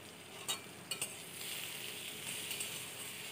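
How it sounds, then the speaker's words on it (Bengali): Sliced okra frying in hot oil with turmeric and salt, a soft steady sizzle with a few sharp clicks of a utensil stirring the pan near the start. "এবার ওই তেলের মধ্যে একটু হলুদ গুঁড়ো দিয়ে দেব কেটে রাখা ভেন্ডিগুলো এবং ভেন্ডিগুলোকে ভেজে নেব।"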